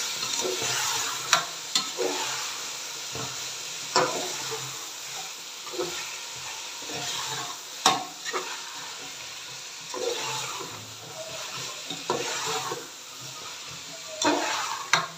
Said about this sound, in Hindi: और यहाँ पे मैं ऐड कर दूँगी अपनी तमाम वेजिस।